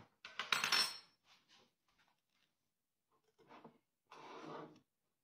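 A lid is screwed onto a glass jar of homemade pickled onions, giving a sharp metallic clatter up front followed by fainter twisting and scraping sounds, close and quiet, with no one talking.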